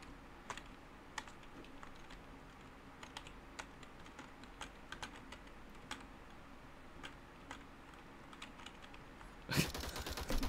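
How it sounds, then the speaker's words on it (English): Rapid clicking of a loud computer keyboard during a live team scrim, irregular keystrokes close to the mic, ending in a louder burst of sharper clatter. "is my keyboard still a little too loud?"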